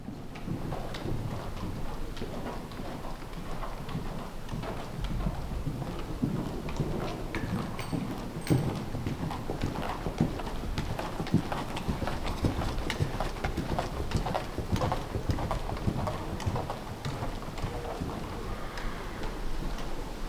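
A novice horse trots through a training session, hooves clip-clopping in a steady rhythmic beat at a moderate distance over a continuous low rumble of arena ambience.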